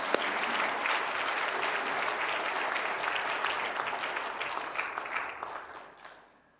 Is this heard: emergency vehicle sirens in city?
no